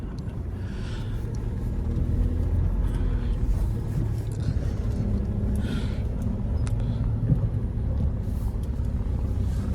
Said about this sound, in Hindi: अब चलते हैं, थोड़ी सी हिला लेते हैं यार गाड़ी को आगे पीछे